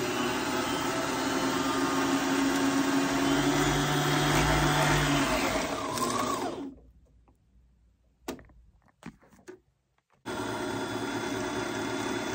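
A sewing machine winds its bobbin with a steady, loud mechanical whir that runs on for several seconds and then stops abruptly, leaving near silence with a few faint clicks before another motor-like hum resumes.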